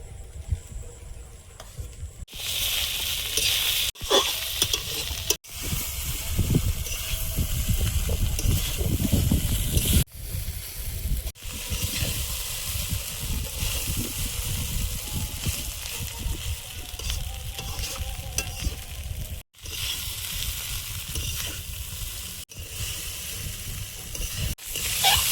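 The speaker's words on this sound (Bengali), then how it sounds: "এবারে 3 বারে ভাজবো, তো 3 ভাগের 1 ভাগ দিয়ে দেবো।" Vegetables, egg and chicken for chow mein frying in a pan, a continuous loud sizzle with scraping stirs and brief breaks, close up with no talking.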